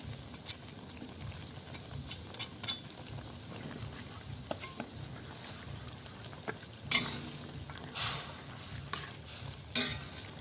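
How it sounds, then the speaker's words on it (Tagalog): Pork, potatoes and carrots are stirred in a frying pan, giving a quiet steady scrape and soft sizzle with a few sharper utensil knocks near the end. "Haluin lang natin yan."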